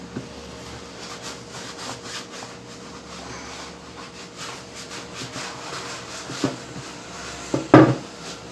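Sticky, fairly soft homemade bread dough, a Serra Gaúcha recipe, scraped loose from a mixing bowl and dropped onto a table for kneading: steady rubbing, scraping strokes close by, ending in a louder thump near the end.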